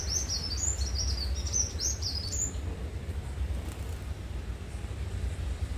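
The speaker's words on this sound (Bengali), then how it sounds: "আগে আসুন পাখির আওয়াজটা শোনাই।" Small birds chirp and tweet in quick repeated bursts near a nest under construction, fairly close at first and then fading, over a steady low rumble of passing road traffic.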